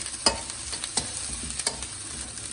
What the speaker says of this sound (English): I think 4 minutes of sauteing is done.